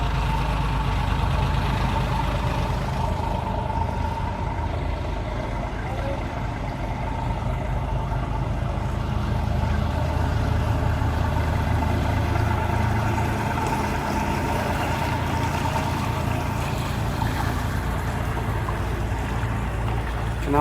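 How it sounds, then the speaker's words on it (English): Canal boat engines idling on an urban canal, a steady low rumbling drone that holds even and continuous throughout, with no talk over it. "Canal boats galore"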